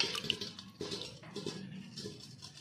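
Muddy guavas are rinsed in water, with soft splashing and sloshing in short, irregular bursts, close by and fairly quiet.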